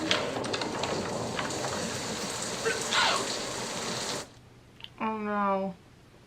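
Steady heavy rain pours down in a film scene, a dense hiss lasting about four seconds before cutting off, followed by a brief zipper-like rasp and a voice in the quieter remainder.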